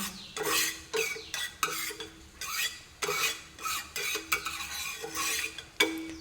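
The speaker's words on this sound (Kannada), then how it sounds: "ಇದಕ್ಕೆ ಸ್ವಲ್ಪ ಎಣ್ಣೆ ಹಾಕ್ಕೊಳ್ತಾ ಇದ್ದೇನೆ" Oil spread with a spoon or spatula across a hot griddle pan while frying pathrode, giving repeated close scraping and stirring strokes in short bursts with a light sizzle underneath, no voices.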